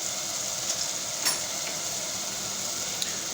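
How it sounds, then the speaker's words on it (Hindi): Cumin and ginger-garlic paste frying in a pan with onion, a steady even sizzle heard close up with a couple of faint clicks; no talking. "इस जगह पे मैं इसमें आधा टीस्पून ज़ीरा डालूँगा और थोड़ा सा इसको भून लूँगा"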